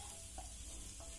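A hot tempering is stirred into tomato chutney, producing a faint soft sizzle under a low steady hiss, with two brief clinks of a spoon against the pan and no speech.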